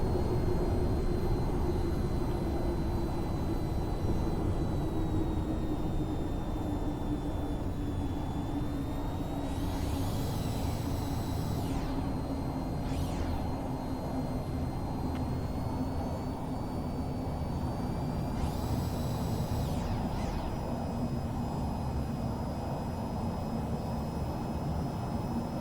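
A VTOL jet in VTOL VR slows into a hover, its engine a steady droning whine that holds throughout with slowly shifting pitch and two brief rushing swells of thrust.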